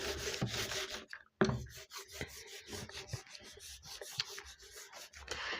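A board eraser rubbed back and forth to wipe writing off a classroom board: continuous scraping strokes in a loose rhythm, close and fairly loud, with one brief pause and no talking.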